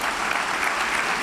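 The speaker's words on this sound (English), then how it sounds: "Let's give them another round of applause." Steady applause from a crowd at a county primary political forum, a dense continuous patter of clapping filling the whole moment at even loudness.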